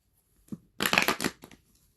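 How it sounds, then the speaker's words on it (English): Playing cards shuffled by hand close by, a short papery riffle burst of about half a second, with a couple of softer taps before and after. "Taylor, let me shuffle this one more time."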